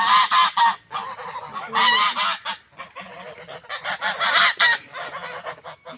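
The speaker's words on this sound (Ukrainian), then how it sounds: "А ну гусі не кричить." Geese honking loudly in repeated bursts, several birds calling over one another close by, with brief pauses between the noisy clamor.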